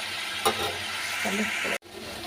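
Steady close sizzle of eggs being fried and stirred in a spice masala for Bengali dim kosha, a continuous hiss with a brief clink of the spoon, cut off abruptly near the end.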